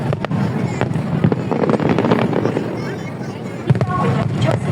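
Fireworks crackle and thud steadily over Victoria Harbour during the Hong Kong National Day display, a dense continuous rumble of bursts heard among a crowd while a public-address announcement speaks over it.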